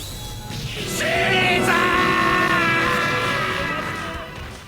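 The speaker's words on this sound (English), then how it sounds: "There's the one where he does the iconic Caesar scream." A character in a JoJo fighting game lets out a long, sustained strained scream as part of a super move, loud and drawn out over game sound effects and a brief impact.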